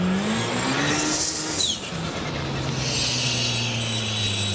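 Teryx H2 side-by-side engine held at high throttle, a loud continuous revving drone with a brief dip and slight pitch change midway, close and without talk.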